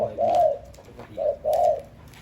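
A decoy dove cooing close by, two or three rounded, resonant coos in a slow rhythm with short gaps between them, clear and prominent.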